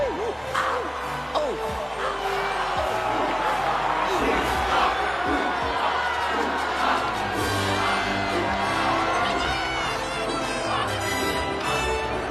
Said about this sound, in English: The crowds are going nuts!